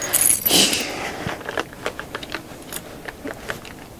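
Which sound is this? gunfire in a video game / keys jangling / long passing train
keys jangling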